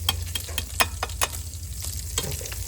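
Hamburger meat sizzles in a pan, a close continuous frying hiss with quick scraping clicks from stirring, no speech.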